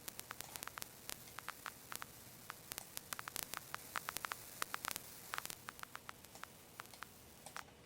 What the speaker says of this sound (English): let's say you put on an old record and it has all those vinyl scratchings